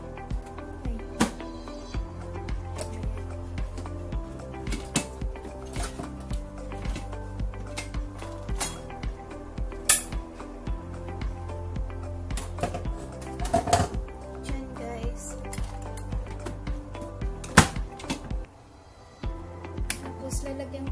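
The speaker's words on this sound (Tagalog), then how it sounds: "i-mimix sa machine" A bread machine mixes loaf bread dough with a quiet, irregular mechanical clatter and ticking, punctuated by occasional sharper knocks.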